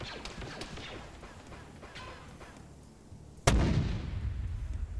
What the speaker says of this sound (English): now to do the cinematic mortar method